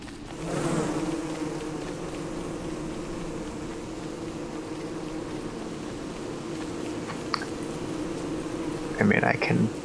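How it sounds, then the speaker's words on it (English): A swarm of bees drones continuously in the Don't Starve video game, a loud, even buzz throughout, with a brief burst of noise near the start and a few sharp clicks and rustles near the end. "Nope. Bees. It's just bees."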